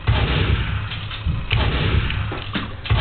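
Gunfire in the video game Team Fortress 2, a run of dull booming shots and thuds in quick succession over a dense, steady game-noise bed, moderately loud.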